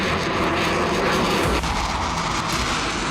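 An Israeli military fighter jet passing over Lebanon, a steady loud engine roar with a broad rushing hiss throughout and a slight shift midway, with no distinct single boom standing out.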